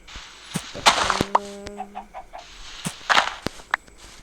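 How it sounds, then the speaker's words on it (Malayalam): Chickens in the video game Minecraft give several short, clipped clucks and squawks at close range, spaced irregularly with quiet gaps between them and no talking over them. "രണ്ട് കോഴിമാരുണ്ട് കേട്ടോ"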